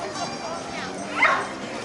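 Dogs yip and bark amid the crowd at a dog parade in Athens, Georgia, short bright barks rising over steady talk, with one louder yelp near the middle.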